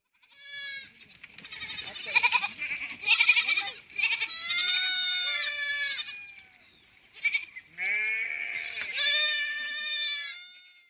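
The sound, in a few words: herd of goats or sheep bleating, returning to stable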